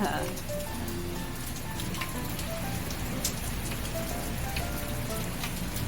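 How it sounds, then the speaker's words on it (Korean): Steady rain patters on a rooftop where potted succulents sit, a dense, even hiss of drops with occasional louder splats close by, continuing evenly throughout with no voices. "비 오는 소리도 좋고요"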